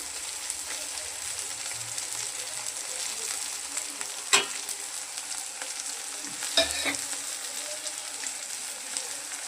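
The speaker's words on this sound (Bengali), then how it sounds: "এই যে আলু টমেটো ভাজা হয়ে গেছে, এবার আমি দিয়ে দিচ্ছি এই মশলাগুলো।" Spices being stirred into potatoes and tomatoes frying in a pan, a steady close sizzle with two brief louder clanks of utensil against the pan, no talking.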